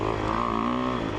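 A new motorcycle with its stock exhaust system and stock mufflers runs steadily, a loud, constant engine drone with a harmonic hum and no talking.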